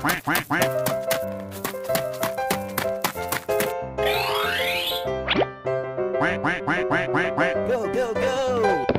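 Loud cartoonish duck quacks come in quick rhythmic bursts among bouncy boing effects and tapping sounds, close and prominent with no speech over them.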